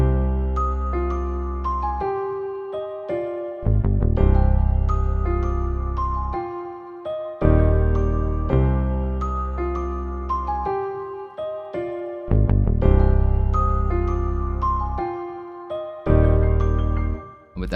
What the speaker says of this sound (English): And with the bass and the piano, it sounds like this.